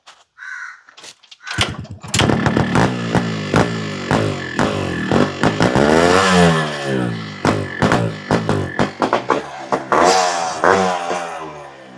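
Two-stroke motorcycle, an RX-series bike, starting up and revving, a loud close crackling, popping exhaust with rapid rising and falling blips of the throttle.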